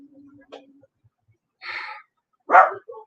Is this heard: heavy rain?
no